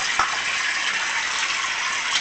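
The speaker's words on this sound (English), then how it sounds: "Turn off the water." Water runs steadily from a sink tap during a face rinse, a continuous close hissing splash with no talking.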